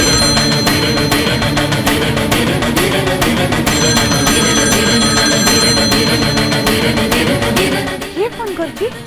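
A telephone rings loudly and insistently with rapid repeated bell tones that carry on steadily for several seconds before cutting off near the end.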